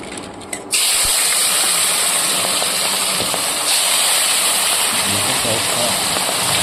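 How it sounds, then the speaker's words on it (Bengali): Rui fish frying in hot oil in a wok, with a loud, steady sizzle that bursts in abruptly within the first second and then hisses on without a break to the end. "এবার মাছগুলোকে ভেজে নিচ্ছি"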